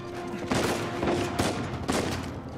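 Gunfire crackles in a firefight in the video game Uncharted 4, with several rapid bursts of shots following one another in quick succession at a steady, loud level.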